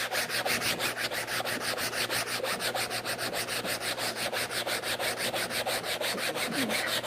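Rhythmic back-and-forth sanding as paint is stripped from an oil painting canvas by hand, each stroke a steady scratchy rasp repeating evenly and close throughout with no talk.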